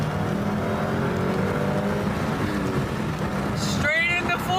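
A Subaru STI with transmission trouble accelerates hard and shifts into fourth gear. The engine drone climbs steadily, then a sharp rising rev follows the shift, close and loud inside the car.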